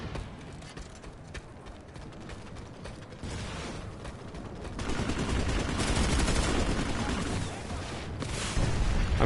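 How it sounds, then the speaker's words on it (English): A flare gun fires in the online shooter Planetside 2, set among mechanical clicks, rattles and gunfire-like bursts that grow louder and denser through the clip. "Somebody's shooting a flare gun."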